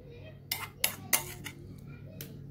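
Metal spoon clinking against a cooking pan while adding ginger garlic paste for a chicken roast, several close, bright taps in an uneven rhythm, then fainter scrapes, with no voice over them.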